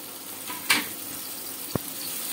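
Chopped green chilies and tomato drop into ginger frying in a pan for a vegetable dal, giving a sudden burst of sizzling over a steady background fry, then a sharp click from the pan.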